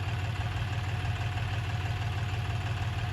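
A tractor engine idles steadily in a field being readied for potato planting, a close, continuous low rumble with a throbbing beat and no talk over it.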